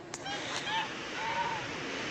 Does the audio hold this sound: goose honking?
yes